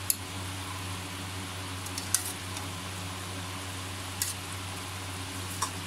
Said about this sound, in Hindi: अब हमने इसको इसमें देसी घी डालना है।